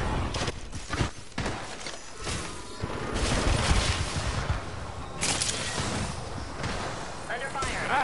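Apex Legends gunfire, sharp bursts and crashing impacts scattered across several seconds amid game noise, with a player talking over much of it.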